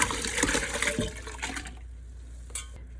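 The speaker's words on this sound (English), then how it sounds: "Dump the tea in." Eight quarts of tea from 100 tea bags tipped into a pot for tanning beaver tails, a loud splashing pour of liquid for under two seconds, then a quieter trickle and a brief late splash.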